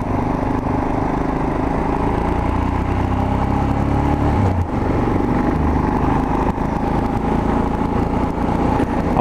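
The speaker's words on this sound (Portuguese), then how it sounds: "Olha os motor, os motobas." Motorcycle engines droning along the Serra do Rio do Rastro mountain road, a steady loud rumble with a brief dip midway as bikes pass close by.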